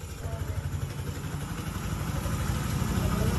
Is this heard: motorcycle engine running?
yes